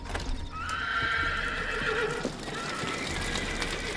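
Horses neigh loudly and whinny near at hand, with hooves clopping and shuffling over a constant background hum.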